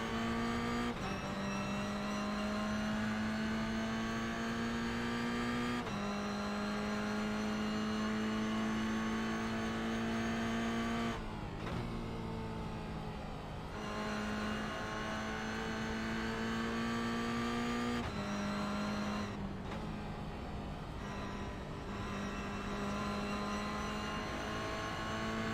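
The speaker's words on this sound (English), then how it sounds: "to hear the twin turbo V8s just absolutely blasting you" Twin-turbo V8 race cars run at the 23-hour charity race at Zolder circuit, making a sustained engine drone. The pitch climbs and drops back at intervals like gear changes, and the level stays fairly even and moderately faint.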